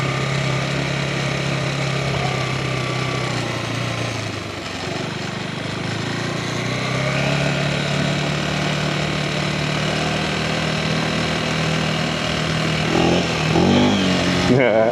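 A tractor engine runs steadily at close range outdoors, its low rumble rising and falling slightly in pitch, with a brief rattle near the end.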